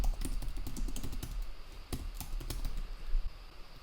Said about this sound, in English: this is where we need to type